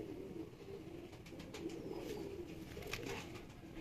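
Pigeons coo softly and continuously in a rooftop loft in Lahore, Pakistan, low murmuring calls blending into a steady close drone with faint scattered rustles.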